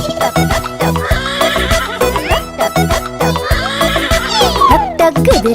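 A horse neighs and whinnies repeatedly over bouncy children's rhyme music, with faint clip-clop hoofbeats and a singing voice mixed in.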